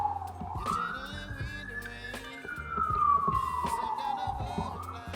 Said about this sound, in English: New York City and their sirens.